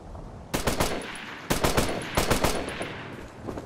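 Bursts of automatic rifle fire in the military shooter Operation Flashpoint: Red River, three rapid volleys of cracking shots at close range with short gaps between them.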